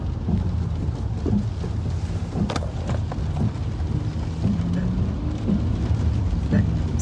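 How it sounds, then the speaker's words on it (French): Steady rain pours outdoors during a crowded gathering, with a low rumble of thunder under a constant wash of rainfall and voices speaking nearby. "Excusez-moi, il pleut."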